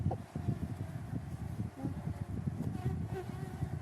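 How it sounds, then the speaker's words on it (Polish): Bees buzz in a busy, fluctuating drone close by during a hive inspection in December, with small rustles and wind noise mixed in. "O, mam pszczoły w bucie."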